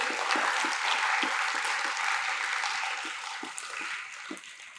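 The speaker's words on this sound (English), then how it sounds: "I believe they deserve another round of applause" Audience applause at a school debating competition, a sustained wash of many hands clapping that stays fairly steady and slowly tapers off near the end, with no voices over it.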